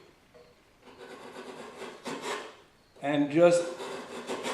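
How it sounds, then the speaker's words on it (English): A chisel pares away wood to form a handhold in a cutting board, making short scraping, rasping strokes in a few separate bursts, with someone talking briefly. "you can create this handhold with just a chisel"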